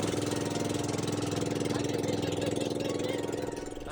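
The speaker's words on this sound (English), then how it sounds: "I accidentally shut the engine off a little bit sooner than I wanted to" A small native boat's engine runs near an uninhabited island, a loud, steady, pulsing mid-pitched chug that holds throughout and eases slightly at the very end without fully stopping.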